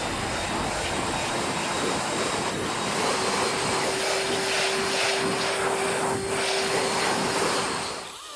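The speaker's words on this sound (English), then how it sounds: "the best way to clear all the mess out to get to the base is blow it out" A loud, steady leaf blower roars close by without letup, clearing pruning debris from around the base of a tree after basal shoots have been cut away; a faint tonal whine rides on the engine noise.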